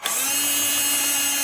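Power drill boring holes through a metal exhaust plate on a Polaris with an aftermarket center-exit exhaust, one steady loud whine held close up after a quick start, no talk.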